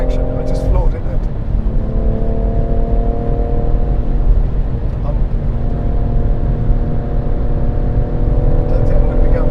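A BMW M140i at full throttle on the Goodwood circuit gives a continuous loud engine drone with a rising tone, heard from inside the car, with a voice speaking over it.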